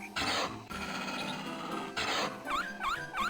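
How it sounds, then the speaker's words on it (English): A small unicorn-like dog creature in the Legend of Dragoon video game gives off rough, growly bursts and then several rising and falling whiny cries, each short and close, over a busy layer of game sound. "it looks like we have a weird little unicorn dog thing"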